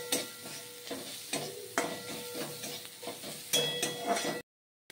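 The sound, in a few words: crushed garlic and green chilli frying in oil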